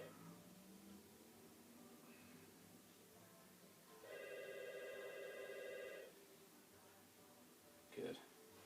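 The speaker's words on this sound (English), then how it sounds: "The phone will ring without fail when filming a treatment video." Telephone rings at a chiropractic office during a full-body adjustment session, a steady electronic ring lasting about two seconds mid-clip, then a short chirp, moderately loud over quiet room tone.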